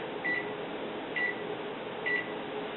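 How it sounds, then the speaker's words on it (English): A microwave oven runs with a steady hum, heating a sample in a lab setting, with three short, evenly spaced electronic beeps sounding over the drone. "we're exposing the sample to microwave radiation"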